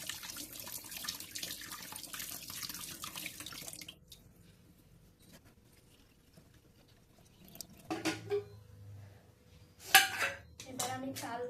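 Tap water running hard over rice and potatoes in a kitchen sink for the first few seconds, then a quiet pause, then more splashing and clinks of a pot as the washing continues, close by.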